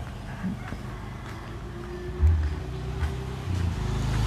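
A car passes on a rural temple road, its engine rumbling low and swelling briefly before fading into a steady drone.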